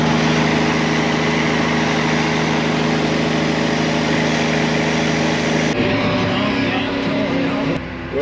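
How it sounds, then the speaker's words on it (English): A tender truck engine runs close by at a cornfield during fertilizing, a loud steady drone that shifts in tone partway through. "one of the best sounding tender trucks I've ever heard."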